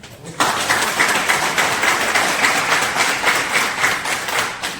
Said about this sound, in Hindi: सर के लिए ताली है यार